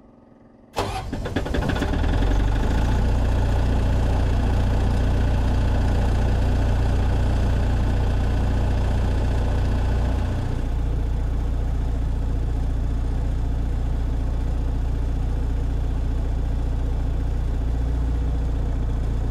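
A military surplus MEP 802A diesel generator, fitted with an auxiliary fuel pump and set on isolator pads, cranks and starts, then settles into a loud, steady low drone that shifts slightly partway through, close by with no talk.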